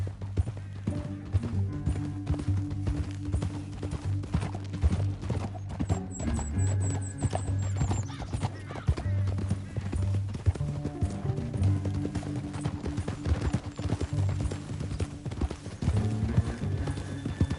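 Steady clip-clop of hooves at a fast gallop, with a horse whinnying partway through amid dense game-style background noise, from Red Dead Redemption 2.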